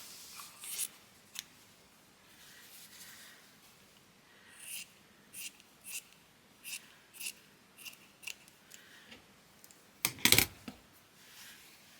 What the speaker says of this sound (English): Might need to curve it and cut it into shape.